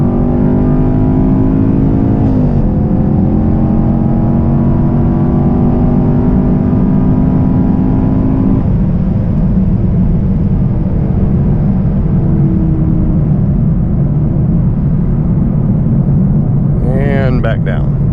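Chevrolet Camaro SS 1LE making a 40 to 130 mph highway pull from second gear with a no-lift shift, its engine droning and climbing steadily under a rising whine, then easing off, heard from inside the car.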